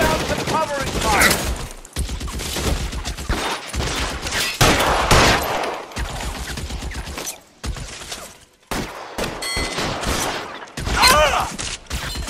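Gunfire in the 1940s Los Angeles crime game L.A. Noire comes as loud, close bursts of repeated shots in choppy volleys, with brief pauses between and some talk mixed in.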